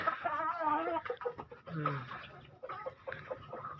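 Ayam Ketawa chickens in a backyard let out several close, warbling, drawn-out calls and clucks in a quick run, with faint background noise between the calls.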